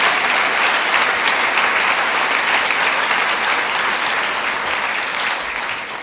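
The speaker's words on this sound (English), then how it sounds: "Let's applaud this group of recipients." A large crowd at a primary school awards ceremony claps steadily and loudly, a dense continuous wash of applause that fades slightly toward the end.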